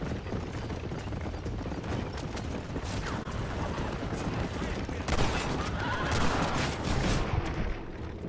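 Dense video-game gunfire rattles near horses, a continuous barrage of shots with occasional mechanical clatter and faint hoofbeats mixed in.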